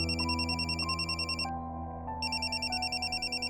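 A telephone rings in bursts of rapid electronic trilling, a short gap, then the warbling ring resumes, steady and fairly close in an indoor scene of a comedy serial.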